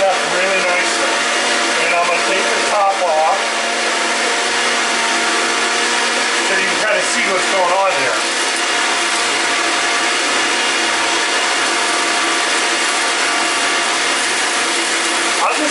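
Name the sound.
Vitamix blender blending spinach avocado fruit smoothie at highest speed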